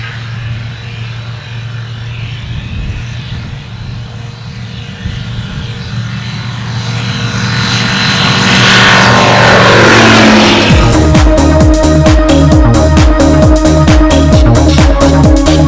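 An AlpiAviation Pioneer 300 light aircraft's propeller engine passes close, its drone swelling loud and sweeping down in pitch as it goes by, then settling into a strong pulsing throb.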